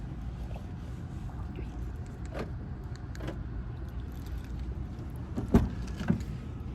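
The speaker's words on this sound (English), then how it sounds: "let me try to get in the car while holding this phone and my" A person getting into a car while holding a phone: quiet cabin ambience with scattered clicks, key-like jingles and rustling, then a couple of louder thumps near the end, with no talking.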